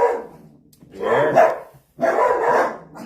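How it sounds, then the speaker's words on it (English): Dogs bark in two loud, close bursts of excited barking separated by a short pause, with a brief spoken word near the start. "Hope you don't mind the screaming and the barking."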